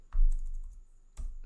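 A few keystrokes land on a computer keyboard at close range as an Nmap command is typed, two soft clusters of taps separated by a short pause.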